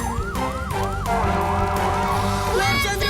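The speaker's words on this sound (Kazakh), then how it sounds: "Көп замай өрт сөндіру қызметі келеді." Fire engine siren wailing loudly and close, rising and falling in a steady repeating cycle, with traffic rumble underneath and a higher whooping tone near the end.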